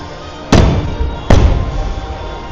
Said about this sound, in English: the fireworks are just about to start